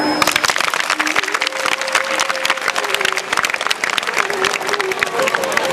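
A seated audience clapping hands together, dense, fast and continuous applause close by with a steady roar of many hands, while a voice speaks faintly over it.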